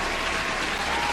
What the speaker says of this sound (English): Let me get the little applause thing here.